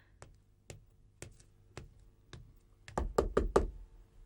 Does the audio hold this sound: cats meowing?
no